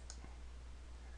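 A single soft mouse click in Visual Studio during project setup, short and close over a quiet low hum.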